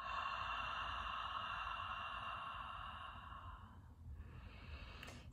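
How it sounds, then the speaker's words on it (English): A quiet, steady ujjayi exhale through an open mouth during a yoga breathing practice, a soft airy throat rush held for several seconds before fading out, close and faint. "Keep the mouth open, exhale the breath out."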